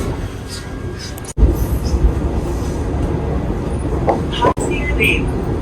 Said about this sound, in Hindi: तो तेजस भी चल रही है, साथ में हमारी वंदे भारत भी चल रही है।